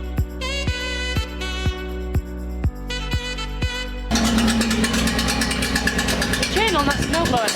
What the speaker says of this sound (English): that snowblower sounds terrible